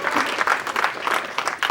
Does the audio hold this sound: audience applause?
yes